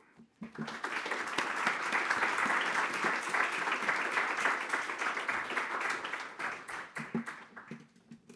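Audience applause welcoming lecturer Professor Tim Wu at Brown University's Janus Forum, a dense, steady crowd clapping that swells quickly, holds for several seconds and then tapers off.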